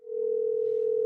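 A steady electronic telephone tone holds one unbroken pitch, loud and clear, rising in within the first instant and continuing alone with no voices.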